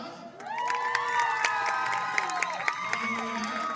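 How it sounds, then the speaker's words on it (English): A crowd at a women's lacrosse championship trophy presentation cheers and whoops loudly, with shouts and scattered claps sustained throughout. "round of applause"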